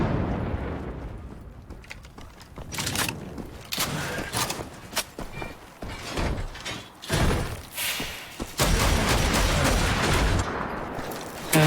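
Gunfire in Wolfenstein: The Old Blood, with loud, sharp shots in irregular bursts that stand out over a dense game soundscape of impacts and clanks.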